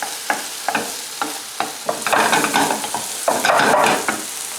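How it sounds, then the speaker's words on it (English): Eggplant fries in a pan and is stirred, giving a steady close sizzle broken by repeated scraping strokes of the utensil against the pan. "the eggplant's cooking away"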